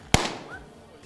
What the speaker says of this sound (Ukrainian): з відкриттям театрального сезону і для вас такий от салют